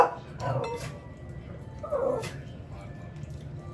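A dog lets out two short, high-pitched barks about a second and a half apart, close by in a quiet room.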